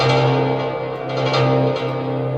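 Shimmering, sustained plucked-string tones of a cimbalom, processed through arpeggiators, blur into a dense, reverberant electronic wash with pulsing arpeggiated textures.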